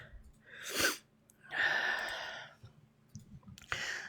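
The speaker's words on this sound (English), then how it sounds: "I feel like I'm about to sneeze." A close, sharp sneeze bursts out, followed by a couple of breathy follow-up sneezes or snorts in a quiet room.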